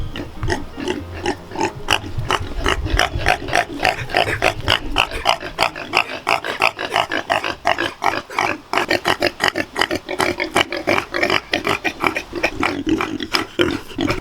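Pigs on a homestead grunt and oink continuously in a dense, rapid stream of short calls, loud and close, with several animals overlapping throughout.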